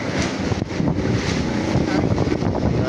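Strong typhoon winds in Manila during Typhoon Carina buffet the microphone in a steady, loud roar with gusty swells, under faint background voices.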